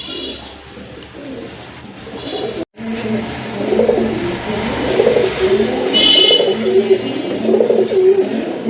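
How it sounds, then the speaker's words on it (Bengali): Pigeons coo in a loft at a bird market, repeated low throaty coos rolling close and steady over a faint background hum, with one brief dropout partway through. "আরেক জোড়া কবুতর এই যে দেখেন"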